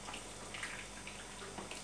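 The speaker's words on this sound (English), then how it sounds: "I'm just going to pour kettle water over it" Water from a kettle poured over fish fillets in a pan, a steady, soft splashing trickle that runs throughout, faint and continuous.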